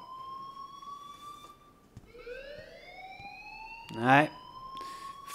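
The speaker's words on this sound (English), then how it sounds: "please turn off that alarm" A steady electronic alarm tone rings throughout a scene in the game Life Is Strange, its pitch sliding upward, with a brief spoken word cutting in near the end.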